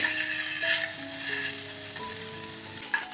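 Salmon fries in a little oil in a pan, giving a steady, loud, close sizzle with bright hiss throughout and a few light clinks. No one speaks.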